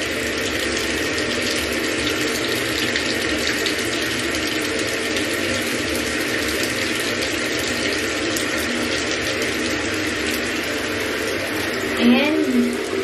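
Tap water runs steadily for bathing a long-haired Shih Tzu indoors, a constant broadband rush with a brief clatter near the end, while people talk over it.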